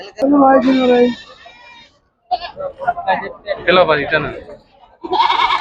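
Male goats bleat at a weekly livestock market in Miryalaguda, Nalgonda, Telangana, with a loud nearby bleat at the start and others mixed into busy crowd chatter and talking.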